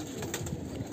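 Soft pigeon cooing murmurs in a low, rolling rhythm inside a pigeon loft, close by and quiet.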